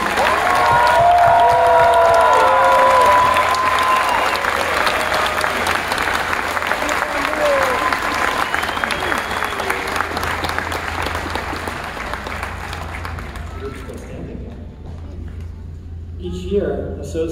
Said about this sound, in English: more round of applause for graduating.